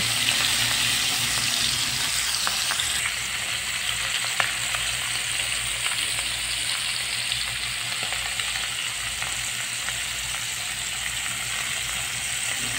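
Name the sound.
marinated fish frying in hot oil in a frying pan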